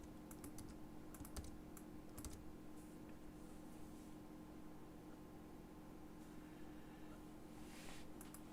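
A computer keyboard clicks as a name is typed, a short burst of quiet keystrokes early on over a faint steady hum, then mostly low background noise.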